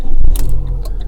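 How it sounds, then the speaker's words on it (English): A car engine cranks and catches with a low rumble, broken by a few sharp clicks and rattles close by. "Actually, if I start the engine"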